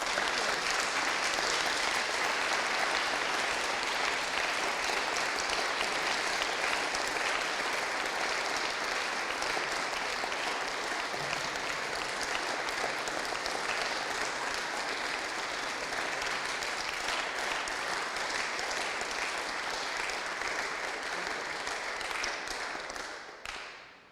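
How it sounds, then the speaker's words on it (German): Warm audience applause at an educational conference, a long, dense wash of many hands clapping steadily for over twenty seconds, evenly loud throughout before cutting off abruptly at the end. "das ist auch einen herzlichen Applaus wert"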